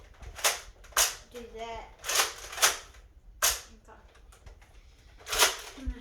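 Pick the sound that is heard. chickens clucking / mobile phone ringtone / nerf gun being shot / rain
nerf gun being shot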